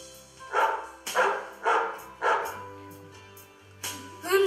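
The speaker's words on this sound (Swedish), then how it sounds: "Hunden hörde någonting och började skälla." A dog barks about five times in a loose rhythm, close and fairly loud, over a low background hum.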